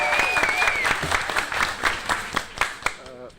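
A school board meeting audience applauds and cheers for a student, with steady clapping and a whistle up front, then the applause thins into scattered individual claps as someone begins to speak.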